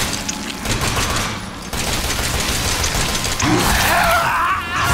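Rapid machine gun fire in the horror game Resident Evil 7, a dense rattling burst of shots that runs for several seconds, loud and close, with mechanical clatter and no talk over it.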